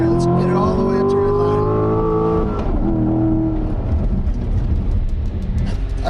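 A 2016 Chevy Corvette Stingray engine revs loudly and climbs steadily in pitch toward redline, then drops off and settles into a rougher, lower roar that continues to the end.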